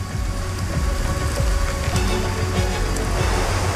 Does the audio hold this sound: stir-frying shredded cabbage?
no